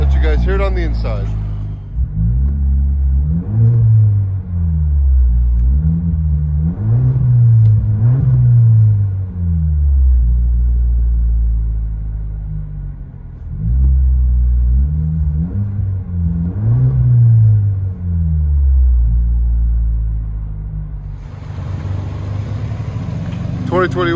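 A deep, loud straight-piped exhaust rumble heard from inside the cab of a 2021 Chevy Silverado 2.7L turbo pickup, swelling with repeated revs and gear changes, with talking briefly over it.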